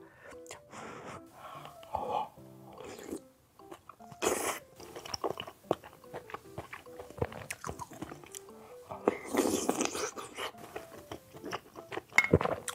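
Close, wet chewing and slurping of spicy Korean ramen with rice-cake and meat dumplings, irregular bites, smacks and crunches throughout, intimate and near with occasional soft breaths.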